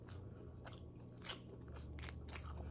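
Coconut shrimp in coconut-milk sauce is eaten by hand with yellow rice, with faint, close crunching bites and chewing repeating over quiet background hum.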